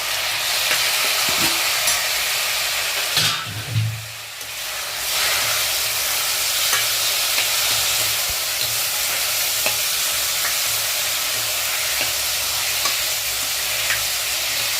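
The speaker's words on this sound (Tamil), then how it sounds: "இப்போ தக்காளியை போட போகிறோம்." Tomatoes are tipped into a pan of browned onions and stirred, giving a loud, continuous close sizzle and hiss with a brief scraping stir and a dip in the frying noise partway through.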